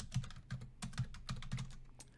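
Keystrokes on a computer keyboard, a short burst of about seven close clicks tapped in an uneven rhythm in a quiet room.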